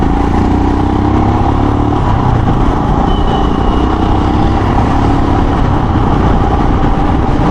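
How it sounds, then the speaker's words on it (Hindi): A motorcycle engine pulls hard in second gear on a test ride, a steady loud drone with rising pitch around two seconds and constant road and wind noise throughout. "सेकंड गियर पे खींचेंगे अभी।"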